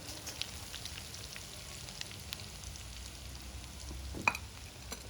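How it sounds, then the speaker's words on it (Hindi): Chicken tandoori bread rolls shallow frying in a pan over low heat, giving a soft, steady sizzle with faint scattered pops, close and quiet throughout. "और इनको हम शैलो फ्राई करेंगे।"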